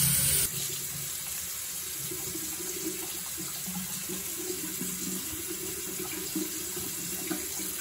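Water running steadily from a bathroom sink tap while a face is washed, a continuous close splashing flow with small irregular splashes throughout and no speech.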